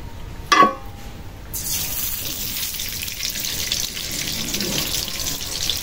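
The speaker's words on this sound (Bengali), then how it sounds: "কড়াই গরম হয়ে গেছে, তেল দিয়ে দেই।" Mustard oil poured into a hot wok for cooking egg curry, a brief splash near the start followed by a steady, close sizzle and hiss that carries on without talk.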